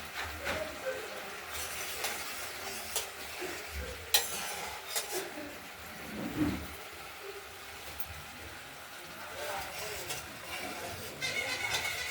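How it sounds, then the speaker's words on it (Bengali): Spices sautéed in a pan for pabda fish curry with potato and tomato, giving a low sizzle with intermittent spoon scrapes and clatters, close but fairly quiet, with people talking over it in places. "মশলাটা কষানো হচ্ছে"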